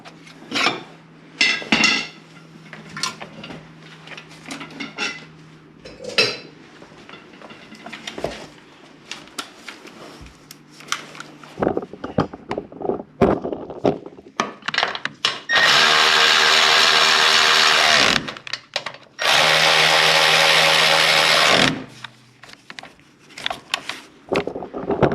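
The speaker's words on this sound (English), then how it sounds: "I'm gonna go ahead and tighten those down." Power tool whirring in two sustained bursts while fastening the screws on a 2018 Chevy Cruze intercooler during replacement, preceded by scattered clicks and knocks of handling parts and tools.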